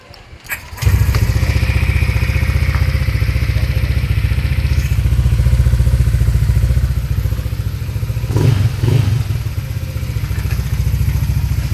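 Engine starting and settling into a loud, steady close idle after a repair to burnt ECU wiring, the car running without radiator or fan, with brief knocking sounds partway through.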